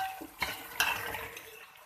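Mutton for bhuna gosht, coated in garam masala, is stirred and roasted in a pot. Two distinct metallic scrapes of the spoon sound over a soft sizzle.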